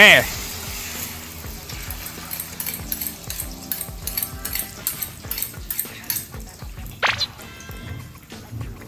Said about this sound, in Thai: แล้วก็ใส่ไข่ลงไปเลย